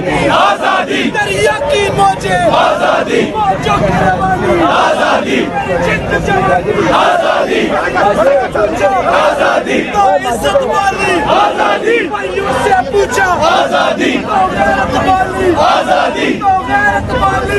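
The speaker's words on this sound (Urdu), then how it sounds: "سخت نعرے بازی کر رہے ہیں" A large crowd of PTI party workers outside a district court chanting slogans in unison, loud and continuous, with rhythmic repeated shouts rising and falling over a dense mass of voices.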